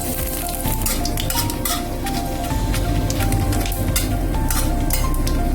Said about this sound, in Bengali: তেলটা আমার গরম হয়ে গেছে তো আমি এক এক করে ফোড়নগুলো দিয়ে দেবো